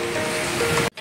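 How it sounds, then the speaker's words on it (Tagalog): Strong surf pounds at San Antonio beach, a loud, close, continuous wash of crashing waves that cuts off abruptly near the end. "Ang lakas ng alon, mga ka-adventure."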